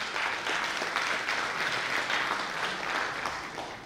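A crowd applauding at a local political gathering, dense steady clapping that holds at an even level for a few seconds, no voices over it.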